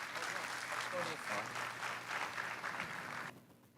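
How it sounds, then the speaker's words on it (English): A meeting room audience at a school board session applauds a high school sprinter, sustained clapping from a crowd that stops abruptly near the end and leaves quiet room tone. "big round of applause for him as well"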